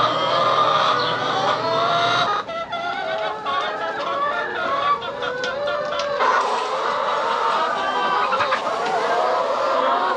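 Hens on a farm cluck and squawk loudly and continuously, a busy overlapping chorus of nearby birds.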